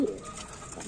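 A racing pigeon gives a brief, close coo that fills the short moment on its own, with no voices.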